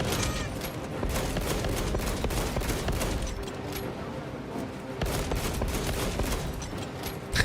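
Heavy bolt pistol firing in a Warhammer video game amid a steady din of battle, repeated punchy shots over a constant loud rumble, with a short lull midway before the firing resumes.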